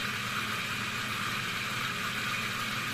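A small solenoid reciprocating engine powered at 20 volts and 3 amps runs at 1000 rpm, giving a steady, even mechanical whir with a faint buzzing vibration, continuous and unvarying, with no voices.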